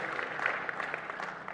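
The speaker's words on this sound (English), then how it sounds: "I think that reading deserved an applause as well" A church congregation gives brief, soft applause after a scripture reading, a faint spread of clapping heard from a distance.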